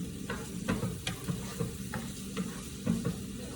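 Fresh vegetables and mushrooms sauté in a pan for zucchini boats, a soft sizzle broken by repeated scraping stirs at an uneven rhythm, close and fairly quiet.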